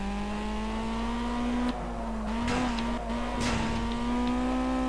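Race car engine in the racing game Project CARS on Xbox One, a loud, steady high-pitched drone holding near one pitch with small shifts, plus brief scraping and tire noise around the middle.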